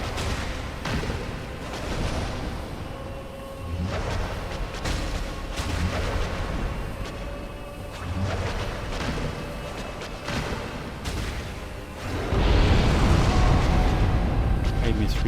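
A video game explosion in Dark Souls bursts out amid repeated booming impacts, ending in a loud, sustained blast.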